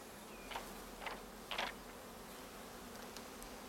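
Honey bees at a hive in late April, a few short buzzing passes rising over a quiet steady background hum, faint and close-by, with no talk.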